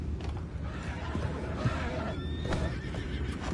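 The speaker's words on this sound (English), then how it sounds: "go find out about those horses down below" Horses neigh and whinny in Red Dead Redemption 2, a few close calls over a steady bed of outdoor game ambience and faint hoof clatter.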